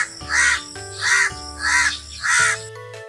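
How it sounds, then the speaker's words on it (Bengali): A crow cawing, four loud, close harsh calls evenly spaced in a steady rhythm, alone with no other sound. "কাক ডাকে কাকা।"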